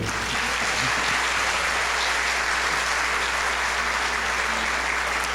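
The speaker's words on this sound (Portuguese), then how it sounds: "recebam com carinho, com aplauso, André Trigueiro" A lecture audience gives a warm round of applause welcoming André Trigueiro, dense continuous clapping from a large crowd, loud and even for the whole stretch with no talk.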